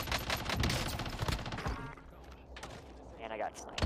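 Gunfire in Call of Duty Warzone, a loud cluster of sharp shots and rapid bursts early on that thins out to sparser cracks later, with a person talking excitedly over it.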